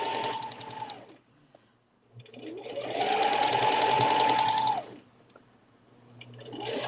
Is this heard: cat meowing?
no